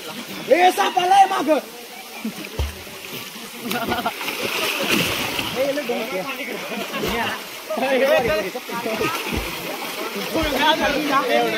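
Water splashes and sloshes as people swim in a secluded pond at Ramling, Yedshi in Dharashiv, intermittent and close, with people talking over much of it.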